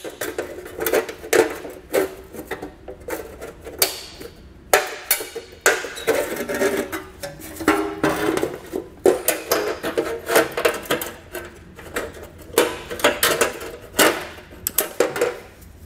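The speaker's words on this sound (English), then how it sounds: "I'm just going to come in with a pair of 10 snips and get the material removed" Tin snips cutting through a thin metal heat shield on a 2009 Honda Accord while making room for a trailer hitch: repeated sharp metallic snips and crinkling scrapes in irregular bursts, close and fairly loud, with no talking.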